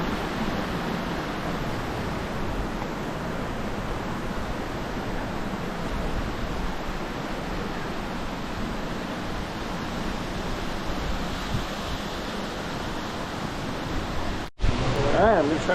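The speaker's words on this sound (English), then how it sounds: "to the left there, we got a waterfall" Waterfall in Subway Canyon, Zion National Park, gives a steady, even rushing roar that fills the whole stretch at constant loudness, broken by a brief dropout near the end.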